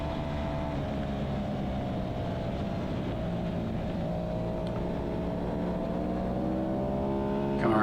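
Aprilia RS660 motorcycle engine racing on a track at a race, a steady loud drone that holds on high revs, with harmonics sliding up as it accelerates; no talking.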